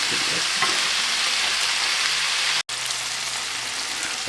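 Bacon and onions sizzle steadily in a frying pan, a dense, continuous crackle that stays close and even throughout, broken by one abrupt instant of silence partway through.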